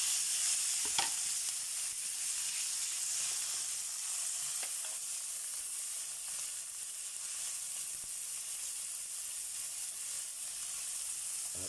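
Tomatoes hit a hot pan and are stir-fried in a home kitchen, with a continuous close sizzle and hiss plus occasional scraping stirs of the utensil against the pan, no voices over it.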